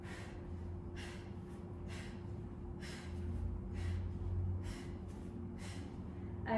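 Sharp, rhythmic breaths are taken during an at-home full-body workout, about eight distinct inhales and exhales spaced roughly a second apart, faint and close over a low steady hum.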